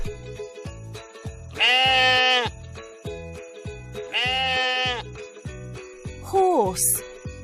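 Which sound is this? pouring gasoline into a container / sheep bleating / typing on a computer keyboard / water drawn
sheep bleating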